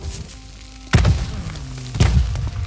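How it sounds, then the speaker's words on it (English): Bombs are thrown and explode in the video game Boundless: two heavy, booming thuds about a second apart over a quiet background, each with a short rumbling tail. "Start throwing some bombs."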